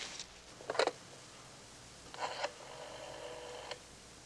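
A telephone is picked up and dialed in a Columbo mystery scene: a short blip of tone, then a longer steady run of dialing tones, moderately close with no talking.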